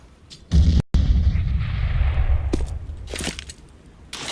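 A grenade blows up in a tactical shooter game with bomb planting, a loud close blast that cuts off sharply and leaves a long, low rumbling tail fading over several seconds, with a few faint clicks later.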